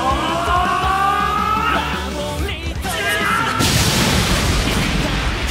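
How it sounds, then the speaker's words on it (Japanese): A large explosion destroys a monster battleship in a Japanese Ultraman Taiga voice drama, a loud, dense burst of rumbling blast noise that swells in the second half over layered dramatic effects and music. "巻き起こる大爆発が怪獣戦艦を完膚なきまでに破壊した"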